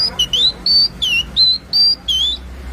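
A voice imitates the call of a wagtail, a small songbird heard at dawn, with seven or eight sharp whistled chirps in a quick, even series, loud and close.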